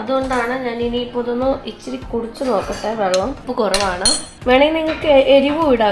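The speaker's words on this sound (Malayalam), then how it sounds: "ഇനി നമുക്ക് ഇതൊന്ന് നല്ലപോലെ ഒന്ന് ഇളക്കി കൊടുക്കാം" A spoon stirring dal khichdi with vegetables in a cooking pot, making light clinks and scrapes throughout under continuous close talking.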